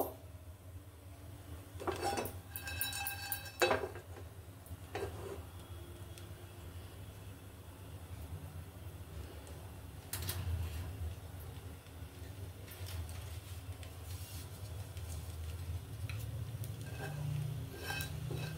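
Four or five small green cardamom pods are stirred on a dry tawa, giving faint, intermittent scraping clicks and rattles in short bursts over a low steady hum.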